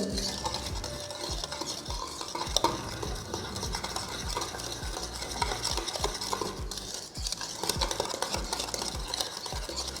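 Vanilla sponge cake batter is beaten by hand in a bowl, with fast, steady, rhythmic whisking and scraping strokes that continue close and unbroken throughout.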